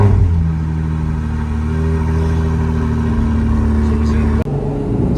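A Ferrari engine drones loudly and steadily from inside the cabin on the Monaco F1 circuit, then briefly cuts off and resumes near the end, with muffled voices faintly underneath.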